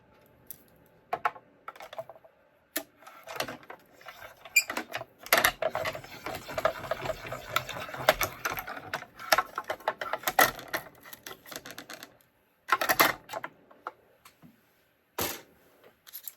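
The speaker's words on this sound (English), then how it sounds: "I'm just going to put that into my cut and emboss" A small hand-cranked cut and emboss machine presses a banner die for a Stampin' Up! card, giving close bursts of rapid clicking and ratcheting with short pauses between runs.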